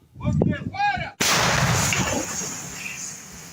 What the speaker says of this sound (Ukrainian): Наразі гармаші стріляють не дуже інтенсивно.